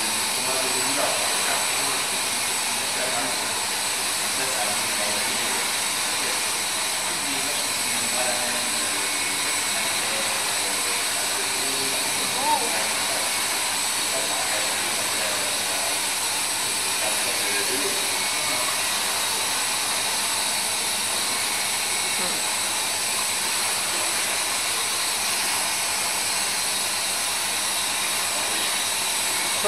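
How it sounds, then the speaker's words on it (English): Steam circulating into a cheese cauldron in a Comté cheese dairy in the Jura Mountains of France, a steady, unbroken hiss and rush that holds at one level from start to finish. "So the only sound you hear into the cheese dairy, it's the steam circulating into the cauldron behind you"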